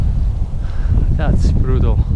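Gusty Santa Ana wind at a local park buffets the microphone with a loud, constant low roar, while a voice speaks over the blustering noise.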